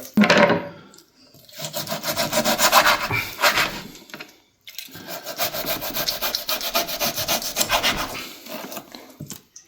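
Knife sawing through raw pork ribs, a rough, rasping cut with repeated back-and-forth strokes in two close, fairly loud bursts separated by a brief pause.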